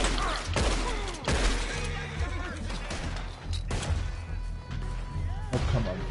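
Gunshots in Red Dead Redemption 2 Online, a scattered volley of loud reports and thuds heard close amid game ambience and music, with a few sharp peaks spread over several seconds.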